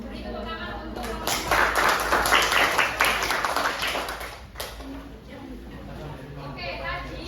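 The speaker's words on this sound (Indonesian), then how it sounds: "Beri tepuk tangan untuk" A high school classroom breaks into applause after a student presentation, swelling for a few seconds and then fading, mixed with chatter and voices.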